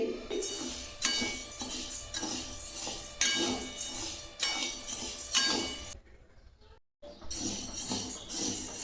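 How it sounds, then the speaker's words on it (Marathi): Sago pearls dry-roasting in a pan, with repeated clinks and scrapes of a metal spoon against the pan at a moderate, uneven rhythm, close by with no talk. "हा साबुदाणा मी भाजून घेते"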